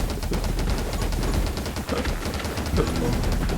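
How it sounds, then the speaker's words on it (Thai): Rapid shotgun blasts in the survival shooter 10 Minutes Till Dawn, a dense, continuous barrage of gunfire with repeated sharp bursts filling the whole stretch, loud and close. "อันนี้ลูกซองแล้วลูกซองโอ้โห"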